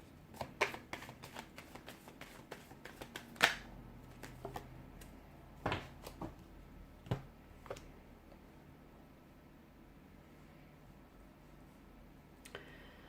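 Crisp riffling and snapping of cards being shuffled, bursts of fast clicks in the first half, then quieter sporadic taps, close by with no talking.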